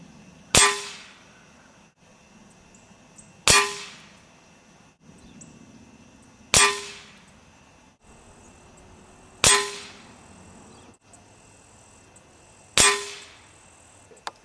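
A Crosman Quest 1000 air rifle fires Hobby pellets at a target: five sharp, loud cracks spaced about three seconds apart, each with a quick ringing decay, amid quiet outdoor background with faint bird calls.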